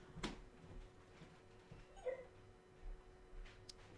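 A pet dog at home lets out a few faint, short yappy whimpers and yips around the middle of the stretch, very quiet against a low room hum.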